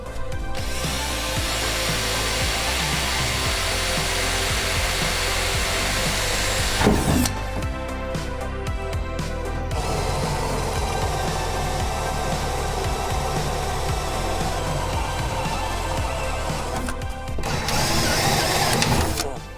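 A Blair spot weld cutter drilling out spot welds in the rusty floor pan of a 1972 Chevy Nova, a loud, steady grinding whine with brief pauses and bursts, close up, with someone talking now and then.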